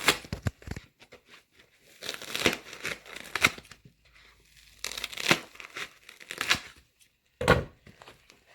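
Paper being cut and torn into triangle, circle and square shapes, with bursts of rustling, crinkling and snipping separated by short quiet gaps, close and fairly loud.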